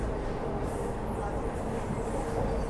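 The Dibrugarh Rajdhani Express 12423 rushes past close by at a crossing, a loud, steady rolling rumble of wheels and coaches that continues without a break.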